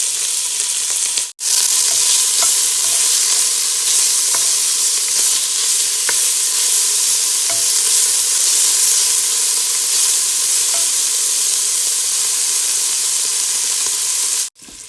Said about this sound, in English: So I'm going to let this bacon get brown, and then I will start adding the rest of the ingredients.